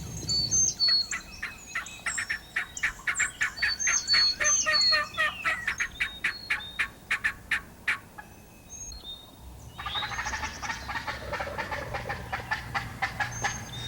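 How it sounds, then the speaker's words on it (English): Wild turkeys gobble in rapid, rattling bursts, several calls overlapping and echoing at moderate distance against a quiet outdoor background. "Boy, did you hear that? That's our gobbler."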